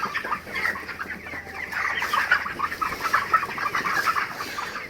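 A flock of four-week-old broiler chickens on a small farm clucks and chirps continuously, many overlapping busy calls filling the space at moderate loudness, with no voices.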